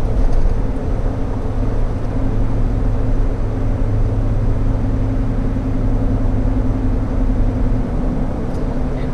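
A 2017 Ford F-250 Powerstroke pickup climbs a grade under a heavy load, its engine a steady, loud, low drone with no break and no talk.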